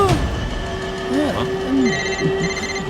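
A table telephone rings steadily in the background while a person talks over it.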